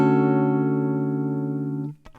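Barred guitar chord strummed once across the middle strings, ringing evenly for nearly two seconds before being muted, with a brief scrape at the end.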